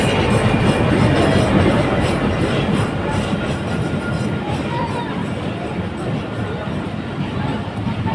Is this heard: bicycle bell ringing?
no